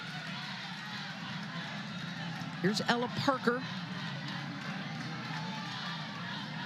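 A jam-packed new stadium crowd at a college softball super regional, Florida State against Oklahoma in Norman, roars in a brief swell of cheering over a steady crowd hum while an announcer talks.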